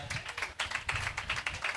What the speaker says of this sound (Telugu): ఆ అమ్మాయి చప్పట్లు కొడదాం ఒకసారి